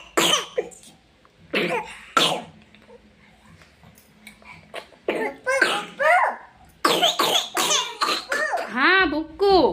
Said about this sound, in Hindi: इनकी खांसी ना बंद हुई रही